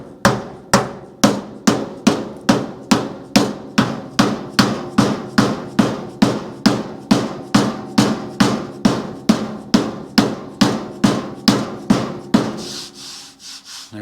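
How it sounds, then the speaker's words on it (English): A dead blow hammer striking a thick steel truck fender to work out a dent, around thirty loud, close, evenly spaced thuds in a fast steady rhythm, stopping near the end. "I'm just gonna hit it with a dead blow first just to get it moving"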